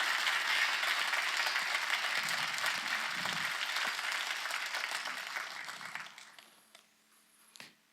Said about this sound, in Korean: 박수를 치려보셔야겠죠.